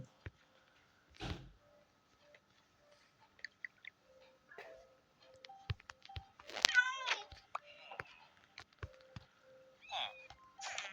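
A cat meows in a Minecraft game, one short, clear meow standing out among sparse clicks, ticks and key beeps, with someone speaking briefly nearby.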